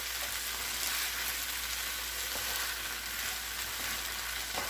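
Noodles and vegetables fry in a pan, a constant hissing sizzle with a few faint stirring ticks, moderately quiet and without speech.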